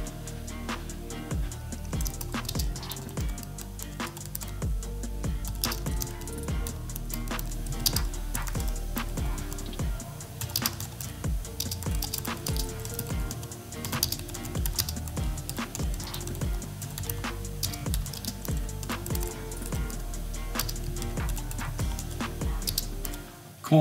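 Steady, rapid typing on a computer keyboard, continuous clicky keystrokes throughout, close and fairly quiet, with no talking.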